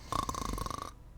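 A voice imitates the snoring of a ship's captain curled up in a sleeping bag during a tabletop role-playing game: a single close, buzzing snore lasting just under a second, then quiet.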